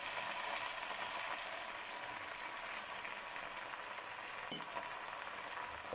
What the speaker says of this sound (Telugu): కొన్ని పచ్చిమిర్చి వేసేసుకుంటున్నాను.